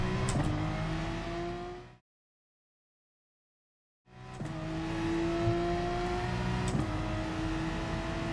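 A Porsche Gr3 race car in a racing video game accelerates hard at Autodromo Nazionale, with a loud rising engine whine climbing through the gears, cut by a two-second gap of silence before the engine roar resumes and keeps climbing.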